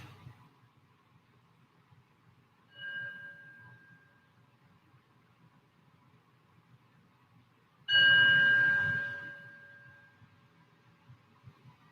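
A meditation bell opening a yoga practice rings twice in a quiet room: first a soft strike around three seconds in, then a louder, clearer one that hums and slowly fades over a low background hum.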